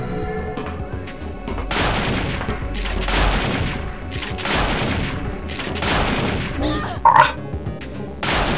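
Rapid bursts of gunfire in the video game Parasite Eve 2, during a fight with golems, over a dense, continuous mix of game effects and rumble, with a few sharp louder shots near the end.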